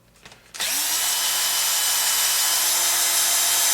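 A power drill backs long screws out of the rear transmission plate of a Turtle Racing gear plate, starting with a few light clicks before settling into a loud, steady, high-pitched whine that holds throughout.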